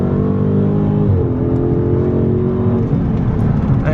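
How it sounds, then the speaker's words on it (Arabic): A Dodge Charger Scat Pack SRT, bought at a US auction, revs its engine loudly and close by, a steady heavy V8 roar lasting throughout with no speech. "صوت السياره ما شاء الله رهيب"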